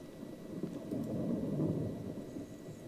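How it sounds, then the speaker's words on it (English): A thunderstorm with rain in the video game Inherit the Earth: a low, rolling rumble of thunder swells and fades beneath a steady patter of rain, with no voices. "Heavens, that storm certainly appeared quickly. It looks like a bad one, too."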